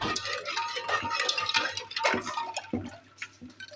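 A spoon stirs lemon water in a glass, giving light repeated clinks and a soft swirl of liquid, fairly quiet and close with no speech.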